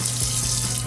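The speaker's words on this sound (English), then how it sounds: "So we're gonna start adding some water" Steady stream of water poured into a bowl of dough mix, a continuous, even splashing gush close by with no voices over it.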